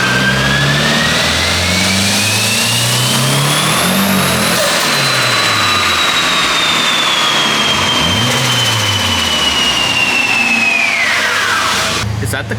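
A turbocharged Nissan Silvia SR20DE engine revs hard on a dyno, rising steadily in pitch as the clutch slips, then dropping off sharply at the end; loud and close, with voices underneath.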